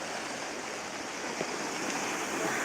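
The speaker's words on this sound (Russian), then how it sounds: "Вот такие волны" Sea waves washing over the stones of a Crimean shore in rough weather, a steady broad hiss and rush of surf with no voices.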